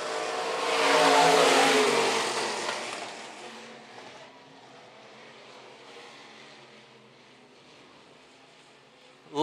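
IMCA stock cars roar down the front straightaway at Phillips County Raceway, a loud pass of racing engines swelling early and then fading into a lower, distant drone.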